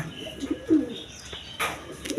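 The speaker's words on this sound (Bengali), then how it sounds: "এখানে এক পেয়ার গররা কবুতর আছে দেখেন কোয়ালিটি সম্পন্ন কবুতর" A pair of Gorra pigeons coo softly in a loft, one or two brief low coos close by, with faint rustling around them.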